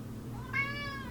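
A pet cat lets out a single drawn-out, rising then falling meow, a sad crying sound heard up close against a quiet indoor background.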